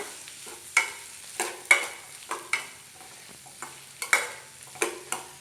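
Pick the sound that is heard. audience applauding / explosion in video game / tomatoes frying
tomatoes frying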